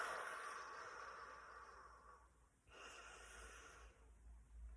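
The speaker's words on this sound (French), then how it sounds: "Et on respire." Slow, deep breaths drawn in and let out during a guided French relaxation and acupressure exercise, an audible inhale-exhale cycle with a short pause midway, soft and close over a low steady background hum.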